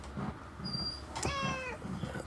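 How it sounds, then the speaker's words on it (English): A cat gives two distinct meows, the second louder and drawn out, against a faint background of tapping and room noise. No one speaks. "My little one-eyed cat over here."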